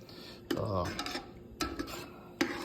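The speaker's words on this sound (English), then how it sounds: "So I'll go ahead and stir it up" A metal spoon stirs chunks of melting beef tallow in a pot for shave soap, giving three distinct clanks against the pot with soft scraping between, close by and without talking.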